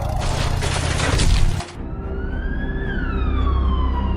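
A loud hiss of rushing noise stops abruptly, then an ambulance siren wails, rising and falling over a low rumble, sounding fairly close.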